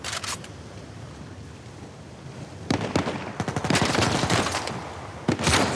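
Enemy gunfire in the video game Uncharted 4 comes as loud, close bursts of rapid shots: a short burst at the start, then a long rattling volley after a lull and a final short burst.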